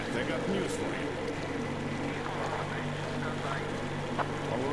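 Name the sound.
boat engine running in Metro Exodus video game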